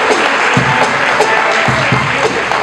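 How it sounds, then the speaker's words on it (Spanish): Audience applause at a live concert event, a steady wash of clapping with a few low thumps breaking through, fairly loud and close. "El aplauso para ella."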